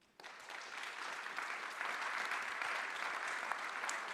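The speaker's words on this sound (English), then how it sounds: "I think they definitely deserve some applause here." Audience applause at the GPAI 2021 Summit in Paris, a dense steady patter of many hands clapping that starts abruptly and holds at an even level throughout.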